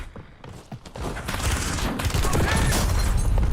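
Sniper and other gunfire in the Warzone video game, a burst of sharp reports and booms building into a dense, loud barrage of overlapping shots, with voices mixed in.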